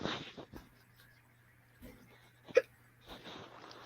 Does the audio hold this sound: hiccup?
yes